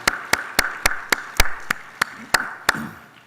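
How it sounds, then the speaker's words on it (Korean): A church congregation at a New Year dawn revival service claps in unison, about ten sharp, evenly spaced claps in a steady rhythm that fades slightly at the end. "우리 어린이들과 모두를 위해서 한번 박수로 격려하겠습니다."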